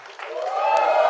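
Crowd at an HR awards ceremony cheering and clapping together, a loud, rising roar of voices and hands that builds over a second and stays full.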